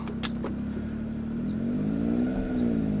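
Suzuki Jimny JA22 engine pulling away in fifth gear after a gearbox rebuild, a low laboring drone that rises slowly in pitch, steady and moderately close, with a couple of faint clicks early on.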